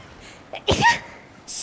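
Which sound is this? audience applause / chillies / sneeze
sneeze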